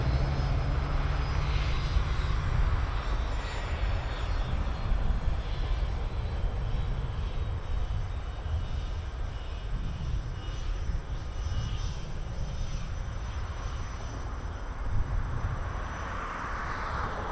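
An Air Canada 617 airliner landing on runway 24 left at Toronto Pearson Airport, a steady distant engine roar and rumble that stays fairly even throughout, with faint insect chirps in the background.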